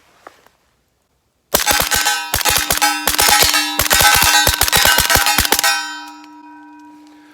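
Rifle rounds from a CMMG Banshee hit a steel target 200 yards away, producing a rapid string of sharp metallic clangs with a ringing tail after a short silence, fairly distant.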